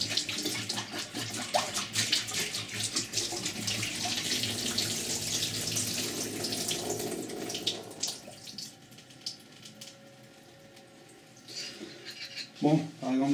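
Tap water running and splashing while sprouted chickpeas are rinsed in a germinator, a loud steady stream for several seconds that then fades to quieter trickles and clinks near the end.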